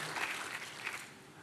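A church congregation at a worship service claps together in a brief, fairly faint burst of steady applause.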